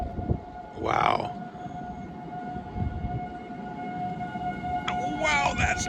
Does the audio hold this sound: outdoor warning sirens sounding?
yes